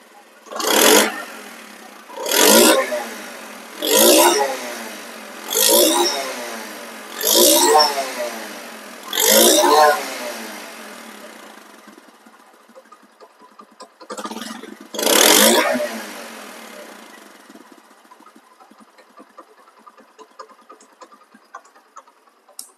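A second-hand Honda CD 80 motorcycle in showroom-condition running order revs six times in a steady rhythm, then idles quietly, revs once more after a pause and settles back to a low idle.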